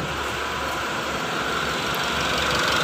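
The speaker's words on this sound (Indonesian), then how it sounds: "untuk suara mesinnya sudah halus ya teman-teman" A Mitsubishi Strada Triton engine idles smoothly and steadily at close range, a constant even hum with no knocking, no talk over it.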